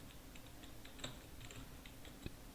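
Code being typed on a computer keyboard: a quiet, uneven run of soft key clicks with a couple of sharper taps, close by and with no talk.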